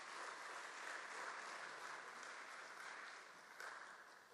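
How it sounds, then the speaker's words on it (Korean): Steady, soft applause from a congregation at a Sunday worship service on a school campus, a continuous even wash of many hands clapping with no voices over it. "다시 한번 온 정성을 다해 하나님께 영광의 박수 한번 올려드리겠습니다."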